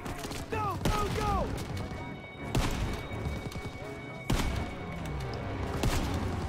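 Gunfire from machine guns positioned in a barn in the Call of Duty: WWII video game, heard as heavy thumping bursts with sharp impacts over a busy, noisy battle soundscape, including scattered voices and chirping effects.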